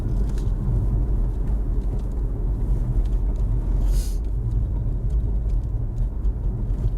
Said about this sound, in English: I'm trying to listen to my car for this noise